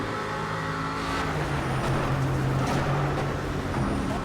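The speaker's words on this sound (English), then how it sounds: "I really love the sound of this V8." A racing-game Aston Martin V8 Vantage GTE race car engine drones steadily and loudly up close, holding a sustained revving tone with slight pitch shifts throughout, alone without talk.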